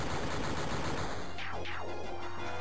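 Barret's Anger Max limit break in Final Fantasy VII unleashes rapid gunfire, a dense continuous burst of shots under game music, followed by two quick sweeping whooshes near the end.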